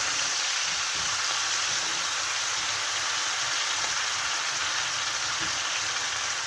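Onions sautéing in cooking juices for a chicken and olive tajine with preserved lemon, a steady, close hiss of frying that holds evenly throughout with no talking.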